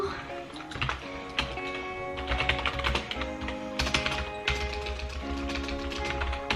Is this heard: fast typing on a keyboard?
yes